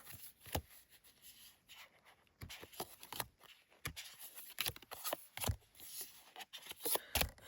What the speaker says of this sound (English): I attempted to shuffle the cards the other way